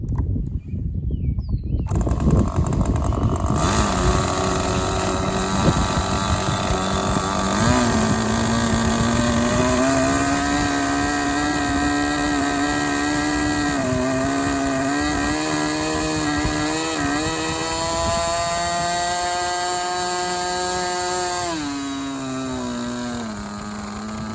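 A small glow engine runs loud and close, its buzzing note rising and wavering with an uneven, burbling four-cycling roughness before easing slightly.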